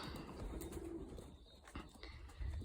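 Soft, low pigeon coos rise and fall against a murmuring outdoor background, fairly faint and unhurried.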